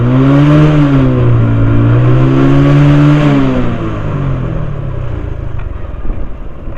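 A TVS Apache RTR motorcycle running with no exhaust fitted revs up with a loud, raw, buzzy drone whose pitch rises and falls, then settles to a rougher, steadier idle-like rumble.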